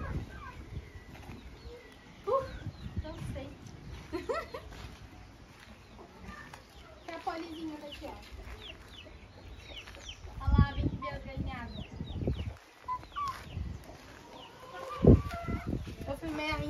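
Hens cluck with a chick among them, an irregular run of close and farther clucks and short calls, with people talking now and then over the birds.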